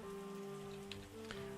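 Steady rain pours down in the farming and winemaking video game Terroir, a continuous dense hiss with low tonal game music running underneath.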